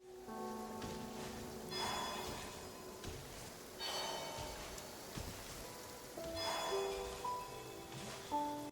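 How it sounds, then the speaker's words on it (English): Pouring rain in the video game Genshin Impact, a steady close hiss that runs throughout, with soft chime-like musical tones ringing over it. "The sound of the rain, the random thunderstorms, etc."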